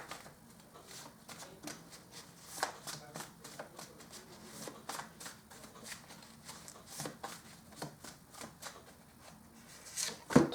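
Tarot cards shuffled by hand in a steady riffling patter that continues throughout, quiet and close, with a voice speaking softly over it.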